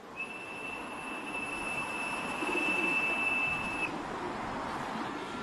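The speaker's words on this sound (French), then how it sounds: "Ceux-là, là, c'est mes pigeons." Pigeons in wintry Beijing, a soft murmur of cooing and bird sounds over a steady airy background, with a thin constant high whistle running through most of it, no talk.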